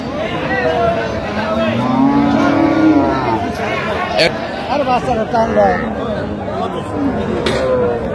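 Sahiwal cows and calves moo at a busy cattle market, with a long low moo around the middle and more lowing later, over steady crowd chatter and nearby talking voices.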